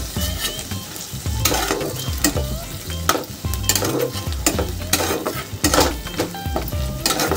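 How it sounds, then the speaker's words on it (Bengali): Chopped tomato and soybean chunks are stir-fried in a pan, with a loud, close sizzle and frequent metal spatula scrapes and clinks against the pan in an irregular rhythm, and no talking. "টমেটো একটু নরম হওয়া অবধি একটু কষিয়ে নেব"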